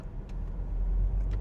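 Ford Fiesta or VW Golf creeping off from rest on the clutch alone, a low steady engine hum rumbling close by with faint clicks, no talking.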